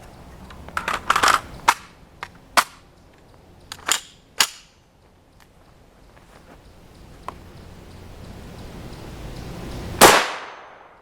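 Gunfire at an outdoor range: American Eagle 40 grain TMJ rounds are fired at Level IIIA hybrid body armor. Several sharp, fairly close reports and clacks come at uneven intervals, then one loud, close shot near the end.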